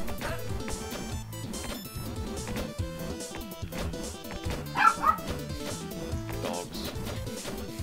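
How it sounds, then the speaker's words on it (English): Dogs bark and yip in the video game 20XX, several short barks sounding under continuous game music and effects. "Dogs."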